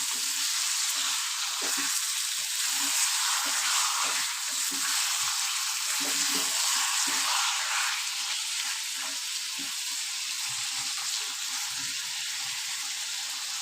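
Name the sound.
mutton frying and being stirred with spices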